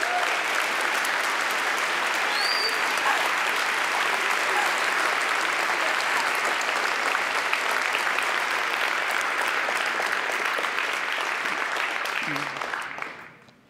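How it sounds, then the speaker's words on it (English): Sustained applause from a large conference audience at PyCon 2015, cheering for event volunteers; dense, even clapping holds steady for about twelve seconds before quickly fading out. "Can we get a huge round of applause for the volunteers?"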